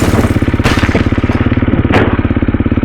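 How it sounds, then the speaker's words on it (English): A motorcycle engine runs close by on a muddy Yorkshire Moors greenlane, its steady rapid firing pulse held high throughout, with two short crunching bursts over the top. "Go on Ian, keep the revs up, just drive straight here"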